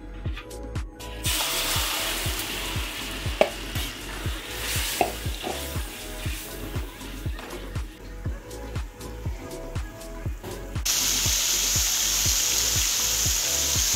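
A ground spice paste sautéing in hot oil for Betawi sayur godog, a steady sizzle broken by regular rhythmic scrapes of stirring, then a brighter, louder hiss near the end.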